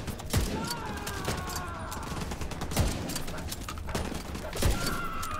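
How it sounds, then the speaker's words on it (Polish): Sniper rifle shots ring out in The Division 2, with three sharp, loud cracks spaced roughly two seconds apart over a steady bed of game ambience. "Strzeliłem go ze snajperki."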